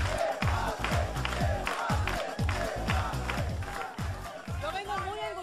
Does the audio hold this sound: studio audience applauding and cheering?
yes